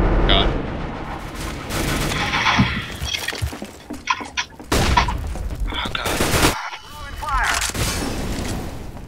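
In CS:GO, a grenade goes off amid heavy gunfire, with loud bursts and booms in rapid, uneven volleys over several seconds and players talking between the shots.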